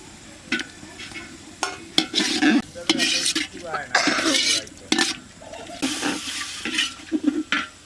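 Meat goes into a hot pan for a gourd curry with garlic, ginger-cumin paste, turmeric and chili, giving bursts of stirring scrapes and sizzling in uneven pulses, close up.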